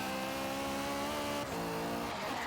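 A turbocharged Acura RSX engine in Forza Horizon 3 roars at high revs with a steady harmonic drone, dipping briefly before climbing again as the VTEC kicks in, loud and close with no talk.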